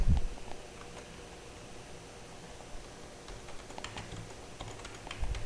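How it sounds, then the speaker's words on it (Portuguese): A computer keyboard is pressed in soft, irregular clicks and taps, faint and close against a quiet hiss. No one speaks. "pelo teclado, você desceu aqui, ó, segura Shift, aperta a tecla End, em seguida Delete"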